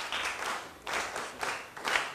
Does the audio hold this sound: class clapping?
yes